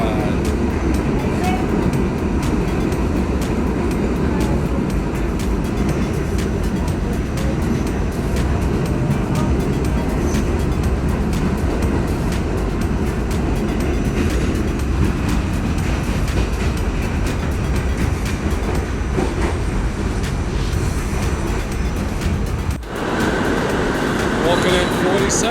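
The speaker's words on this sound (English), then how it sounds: "The subway ride." A New York City subway train rolls along with a loud, constant roar and rattle of wheels and car bodies throughout, while people talk at times over the din.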